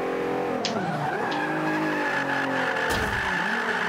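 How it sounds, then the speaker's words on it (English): In the Forza Motorsport 5 racing game, an early front-wheel-drive sport compact hot hatch brakes into a turn, its engine droning loudly while the tires squeal and skid through the corner. "I put on the brakes and make the turn."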